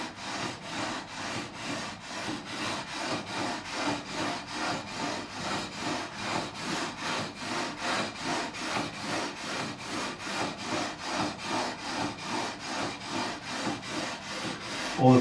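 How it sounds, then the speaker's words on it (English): Guitar frets on an Ibanez Mick Thomson MTM-20 being sanded with 400 grit abrasive, close rhythmic back-and-forth rubbing strokes repeating evenly throughout, no talk. "This time going across with the 400 grit, the finer of the two grits."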